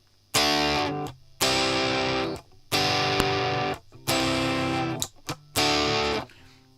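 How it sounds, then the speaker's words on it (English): Electric guitar played through a LEKATO PA1 pocket amp with reverb added, five loud strummed chords in a row, each ringing and then cut short by brief gaps, distorted and close. "So I'm just going to add some reverb from that onto this as well."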